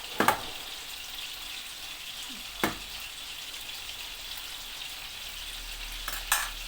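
Tomato slices fry in a couple of spoonfuls of oil in a pan, a quiet steady sizzle broken by a few sharp clinks and knocks, with no voices.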